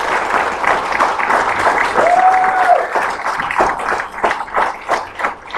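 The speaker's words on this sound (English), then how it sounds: "So, for Cynthia Leanne, please, just put your hands together, please." Sustained audience applause fills a live event hall, steady clapping from a crowd that swells and then thins toward the end, with a few voices mixed in.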